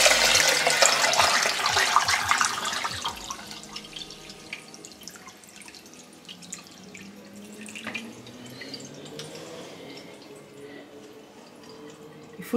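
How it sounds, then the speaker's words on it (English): Water gushes and splashes through a home hydroponic setup as it fills. The flow is loud and hissing at first, then settles into a quieter trickle with scattered drips, with no speech. "because you may hear the water go through now"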